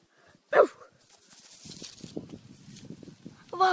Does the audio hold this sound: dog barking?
yes